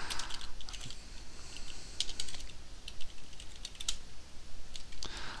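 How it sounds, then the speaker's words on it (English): Rapid clicking keystrokes from a computer keyboard come in quick irregular bursts and short pauses, close and moderately loud, without any voices. "So just go ahead and type anything you want."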